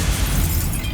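An Incendio fire spell in Hogwarts Legacy erupts as a loud, sustained fiery burst with heavy low rumble, filling the whole short moment without pause.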